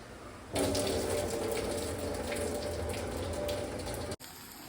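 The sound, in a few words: draining water from cooked noodles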